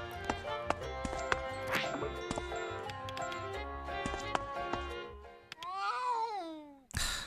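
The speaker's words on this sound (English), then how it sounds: "A cat's yowl?" A cat yowls in the video game A Space For The Unbound, rising over busy game music with clip-clop sounds, then a sharp cut near the end.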